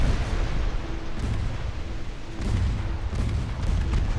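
Torpedo hits on a warship in Ultimate Admiral Dreadnoughts, heavy dull booms rolling over a loud constant rumble of naval battle, with no talking.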